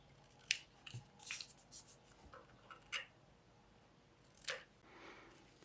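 Scissors snip and trim a paper strip for a handmade paper trinket box, with several sharp, quiet cuts at uneven intervals and soft rustling between them in a quiet room.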